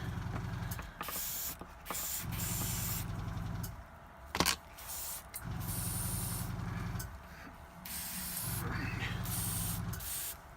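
Airbrush hiss spraying varnish onto a painted Ogryn miniature bust, in several steady bursts of a few seconds each, separated by brief pauses, fairly close and moderately loud.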